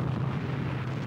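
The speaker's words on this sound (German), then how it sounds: "beginnt mit 9 Stunden Dauerfeuer von 1200 Geschützen" Massed artillery barrage at Verdun in 1916 from hundreds of guns firing at once, heard as a dense, unbroken low roar of rumbling explosions with no gaps between blasts.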